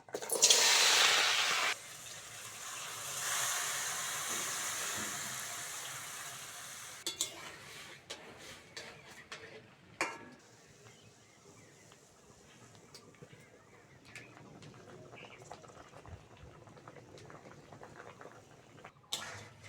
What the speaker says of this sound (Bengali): প্রথমে আলু বিন কড়াইটা সিদ্ধ করে নেবো